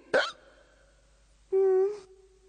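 Two cartoon hiccups in a Ninja Hattori episode: a short sharp yelp, then after a pause a longer, loud, tonal hiccup, both isolated against quiet background.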